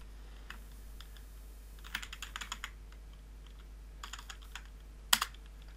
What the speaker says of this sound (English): Okay, so you type in the password for your existing administrator kind of account.